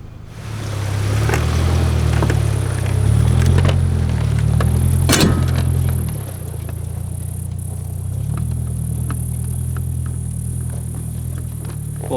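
A car crawls at walking pace along a rough dirt road in an open desert in eastern Oregon, its engine humming low and steady with rattles and bumps from the cabin.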